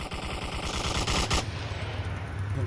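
A G3 rifle in the VR shooter Onward empties a full magazine in one rapid, loud automatic burst lasting over a second, followed by a lingering echo and ambient rumble.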